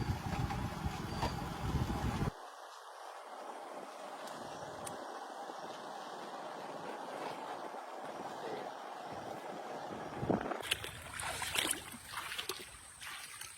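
A rowboat glides along a cloudy-day river in the Sundarbans, water washing softly against the hull under steady wind noise, with louder gusty bursts at the start and end.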